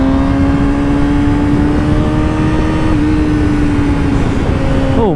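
A motorcycle engine runs loud and close with a steady droning exhaust note, holding a nearly constant pitch. Near the end it shifts and crackles briefly, with no talking.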